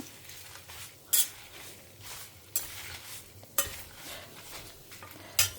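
Desiccated coconut stirred and roasted in a pan with fried curry leaves and chillies, a soft steady scraping and sizzle broken by four sharp clinks of the spoon against the pan.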